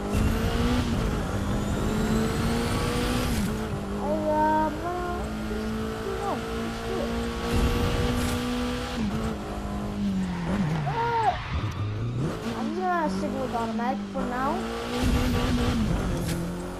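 A small roadster much like a Miata driven in the racing video game The Crew 2, its engine droning steadily and revving through gear changes with tire squeals late on, loud and continuous, while a voice briefly speaks over it.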